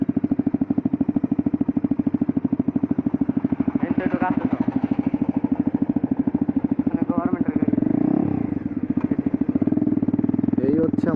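A Bajaj Dominar motorcycle engine runs steadily and loud throughout, with a rhythmic mid-pitched throb and a brief shift in tone partway through, while people talk over it.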